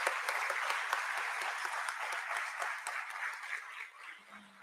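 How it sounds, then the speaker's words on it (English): Steady audience applause fills a stock listing ceremony for JSW Infrastructure at BSE, dense clapping at moderate distance that tapers off near the end. "Let's have a huge round of applause,"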